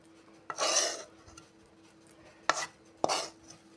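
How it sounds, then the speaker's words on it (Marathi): Sesame burfi mixture is scraped and spread into a ghee-greased plate, giving three close rasping scrapes, the first longer and the last two quick, over a faint steady hum. "अशा पद्धतीने मी यामध्ये या प्लेटमध्ये हे सर्व मिश्रण काढून घेत आहे"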